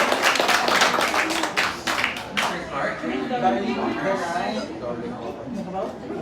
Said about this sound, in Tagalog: let's give her a big round of applause, everyone